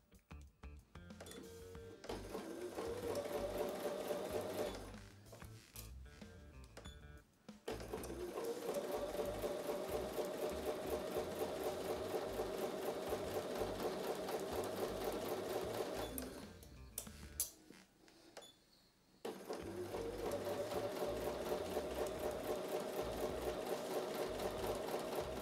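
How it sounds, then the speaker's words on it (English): A domestic sewing machine runs a quarter-inch seam through quilt block fabric, its motor whirring in long steady bursts broken by a few short pauses, close and clear with no talk. "take that over to the sewing machine and sew a 1/4 inch seam"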